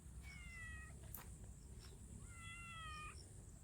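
A cat meows twice in a rural rice-field setting, each call drawn out and clear, separated by about a second, over a constant low rumble of background noise.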